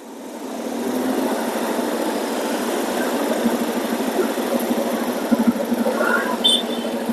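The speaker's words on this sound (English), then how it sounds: "Then I will start the engine and turning on my headlamp." A Suzuki Address scooter engine idling at a traffic light, a steady buzzing hum that rises after the start and holds level throughout, fairly loud and close with no talking.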